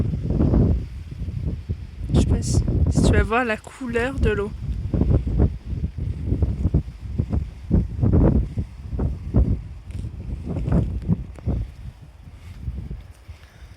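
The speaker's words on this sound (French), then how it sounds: "On a du vent." Gusty wind rumbles across the microphone outdoors on Belle-Île-en-Mer, persistent and fairly loud, beneath someone speaking.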